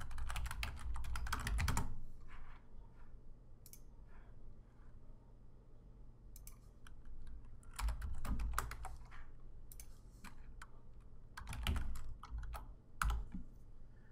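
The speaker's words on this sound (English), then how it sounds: "So I'll type something like this." Typing on a computer keyboard comes in several bursts of rapid key clicks with quiet pauses between them, close up and soft, with no talking.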